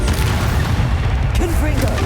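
A Bombarda spell explodes in the video game Hogwarts Legacy, a dense, loud booming blast that fills the moment and rumbles heavily at the low end, with a brief voice briefly heard.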